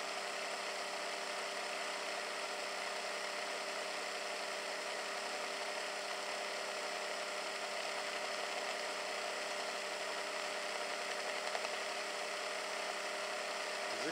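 An electric motor driven by a Hall sensor MOSFET controller spins up past 2000 RPM, giving a steady, even whine with layered tonal hum. It runs close and continuous with no talking.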